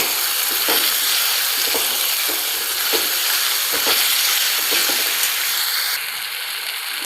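Moong dal and ridge gourd sizzle and hiss steadily in a hot pan, with occasional light scraping taps from stirring, loud and close throughout.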